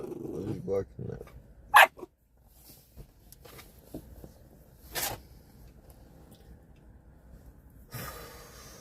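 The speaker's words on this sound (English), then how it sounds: "What are you barking at?" A dog barks a few times in short, sharp bursts nearby, with snorting and shuffling noises in between and some speech.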